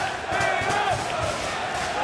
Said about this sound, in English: You can hear who the crowd wants